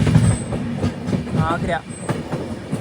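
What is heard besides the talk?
train running, Navyug Express through Rajasthan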